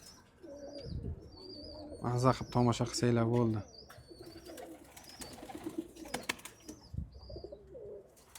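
Navoi pigeons in a loft give low repeated coos and a few brief chirps, with some light wing flutter. Someone talks loudly through the middle and again near the end.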